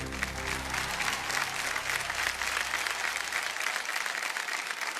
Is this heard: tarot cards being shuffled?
no